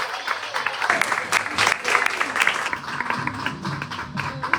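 An indoor audience claps steadily for skater Jesny Pierre-Louis at an embassy ceremony in Chile, a dense, fairly close wash of applause lasting several seconds.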